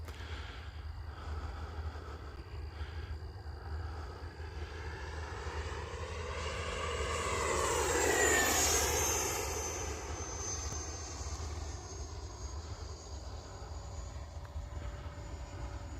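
A small jet engine whine swells as an E-flite F-18 Blue Angels RC model jet approaches, peaks with a rising-then-falling pitch as it passes, and fades away.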